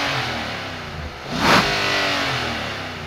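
A loud engine rev of a 2022 Infiniti QX80 V8 SUV swells briefly over a steady deep exhaust rumble, heard from outside the vehicle.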